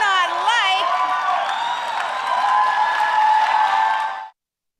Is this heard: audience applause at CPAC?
yes